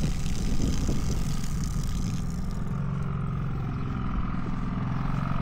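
A portable generator running while dying during a test of an electric tankless water heater: a steady low engine drone with a throbbing hum that thins and fades partway through, close and continuous, with no talk.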